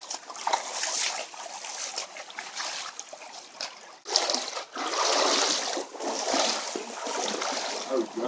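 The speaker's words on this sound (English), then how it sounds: "we can hear the waterfall now" Cold creek water rushes down a canyon toward a waterfall in Oneonta Gorge, a loud steady wash with brief dips and splashy surges, close by and without speech.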